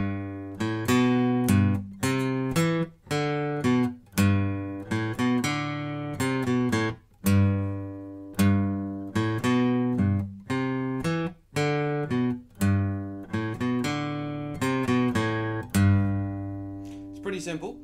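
Acoustic guitar picking the intro of a song, a steady run of clear plucked notes and short phrases played alone, close and even in loudness for the whole stretch.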